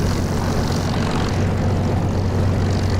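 Propeller aircraft engine idling at about 1400 RPM in the DCS flight simulator game, a steady loud droning hum with a constant low throb and no change over the stretch.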